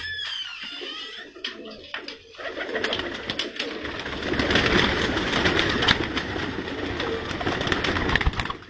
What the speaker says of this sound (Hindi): तो ये सज्जाद ख़ान का ब्रीडर कबूतर है जी।